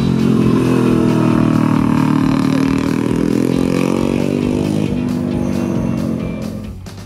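A Matchless G50 single-cylinder 500cc racing motorcycle runs loud and close, its engine note rumbling steadily and then dropping in pitch as it eases off toward the end.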